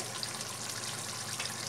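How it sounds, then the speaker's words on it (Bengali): Continuous bubbling of a thick pointed gourd and prawn gravy boiling in a pan, a steady close hiss and gurgle with no talk. "গ্রেভিটা ফুটছে।"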